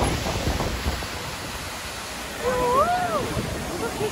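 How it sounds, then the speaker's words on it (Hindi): Mountain water rushing near a barrier in North Sikkim, a steady broad roar close by, with wind and brief voices over it. "इधर से ही पानी आ रहा है तो, है ना।"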